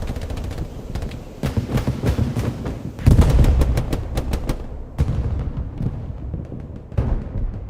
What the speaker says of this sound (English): So artillery, getting that smoke out, trying to help the 20th EXD group get into the strong point.